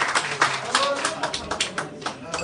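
Scattered audience clapping at the 5th Africa Barista Championship 2014 in Bujumbura, Burundi, for a competing barista: uneven, fairly close hand claps rising and falling in short bursts, with some voice mixed in.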